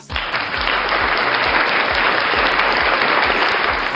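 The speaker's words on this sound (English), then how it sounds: "Give her another round of applause" Studio audience applause on a talk show, loud and dense with no pauses, rolling on steadily for several seconds.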